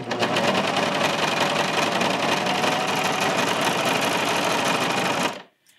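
A serger stitches the side seams of a knit tee, running in one loud, continuous mechanical whir with rapid rhythmic chatter, then stopping abruptly near the end.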